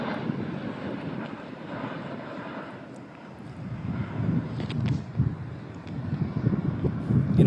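A twin-propeller airplane of an old style drones steadily overhead, its engine rumble broad and continuous, with wind buffeting the microphone and a slight swell toward the end.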